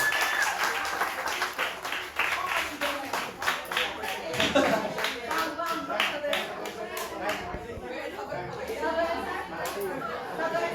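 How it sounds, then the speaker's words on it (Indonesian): At a Sunday school service, children clap their hands in quick, uneven bursts amid lively chatter and overlapping voices, the clapping close and scattered rather than in unison. "Tepuk tangan ya."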